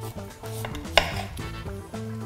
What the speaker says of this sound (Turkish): Hemen kerevizimizi doğramaya başlıyoruz.